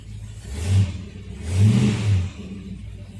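A vintage Ford FE V8 engine running just after start-up, fitted with a dual point distributor with vacuum advance, rumbling loudly and close with two swelling revs in a low uneven idle.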